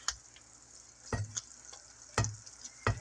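Pecan glaze stirred and cooked in a pan, a soft steady sizzle broken by three distinct scraping strokes of the spoon about a second apart, close and fairly quiet with no talking.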